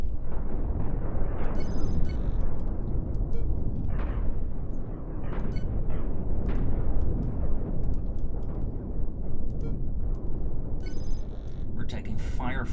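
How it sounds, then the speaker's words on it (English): Continuous rumbling impacts, bursts and crackling blasts as a spaceship takes weapons fire in the space battle game Cosmoteer, loud and dense throughout, with someone talking over the action. "We're taking fire from the side, that's not good."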